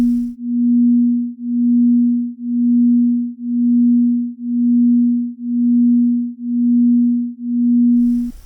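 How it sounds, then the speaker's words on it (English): Two steady sine tones at 240 Hz and 241 Hz played together, swelling and fading in volume about once per second in a smooth, even pulse of roughly eight loud-soft cycles, alone and loud. "This is the beat frequency between the 240 and 241 Hz tone."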